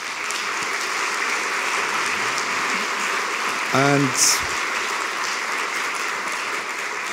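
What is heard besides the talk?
audience applause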